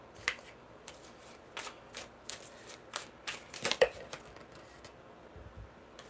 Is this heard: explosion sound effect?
no